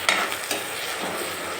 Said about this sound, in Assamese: সেয়া নহৰু, আদা দি পেলাই এনেকৈ ভাল ধৰণে লৰাই দিছোঁ।